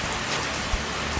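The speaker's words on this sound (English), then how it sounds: "Look at the rain." Steady rain falls in Sulawesi, Indonesia, as a dense, continuous hiss of drops hitting surfaces, with one brief low thump and no talking.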